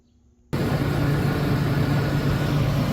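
A Toyota Yaris four-cylinder engine starts up and settles into a steady, loud idle after half a second of near silence, running evenly close by.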